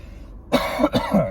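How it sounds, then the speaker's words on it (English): A few harsh, close coughs in quick succession, with a brief pause between bursts. "Sorry for the coughing"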